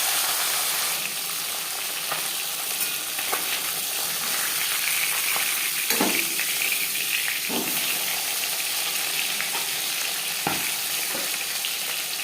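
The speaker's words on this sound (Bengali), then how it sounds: "একটা সাইড ভাজা হয়ে গেলে অপর সাইড তৈরি দেবো।" Silver carp fish head fries in hot oil, a dense continuous sizzle with occasional louder crackles and spatters, close and steady throughout with no talking.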